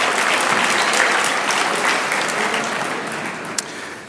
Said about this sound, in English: Give New York another round of applause.